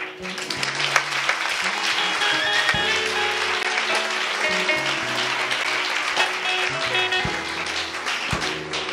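A church congregation applauds steadily and fairly loudly throughout, with scattered voices and taps mixed in under the clapping.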